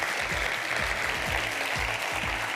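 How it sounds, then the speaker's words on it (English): Sustained audience applause after a talk, dense steady clapping filling the space from start to finish with no voices over it. "another huge round of applause for Dany"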